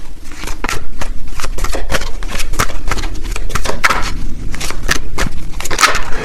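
Cards shuffled during a tarot-style card reading, a steady run of crisp riffling and soft slapping strokes close by, continuous and fairly loud, with no talking.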